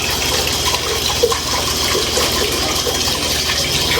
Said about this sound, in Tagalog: Dagdagan lang ng tubig.